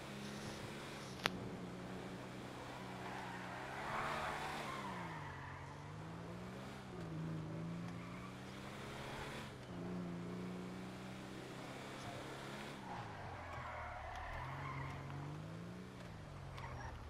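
Cars racing in the Grand Theft Auto video game, engines droning and rising and falling through gear shifts, with tires squealing and skidding at moments, fairly steady and moderately loud over seventeen seconds without talking.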